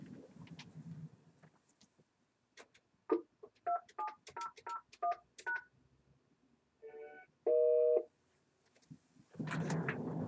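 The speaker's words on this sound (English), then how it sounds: "I'm going to go to the phone sitting behind me and dial that." Tones from dialing a code on a conference phone: a quick run of separate keypad beeps in an uneven rhythm, followed by two longer tones, heard close and clear in a quiet room.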